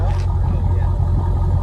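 A 2020 Dodge Challenger Scat Pack with a 6.4L HEMI V8 and Jones dual exhaust idles with a deep, steady, close rumble, with a voice audible over the engine.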